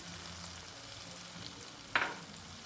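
Poppy seed and green chili paste is dropped into hot oil in a pan for Bengali-style potato curry, giving one sudden sharp sizzle burst that fades quickly after a quiet low simmer.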